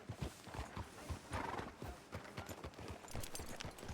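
Horse in Red Dead Redemption 2, its hooves clip-clopping in a quick, regular rhythm close by, faint overall, with a brief whinny-like sound mixed in.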